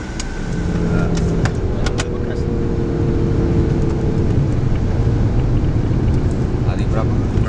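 A Proton car with a 1600 cc CFE turbo engine and seven-speed CVT drives along, a steady engine and road drone heard from inside the cabin, with people talking over it.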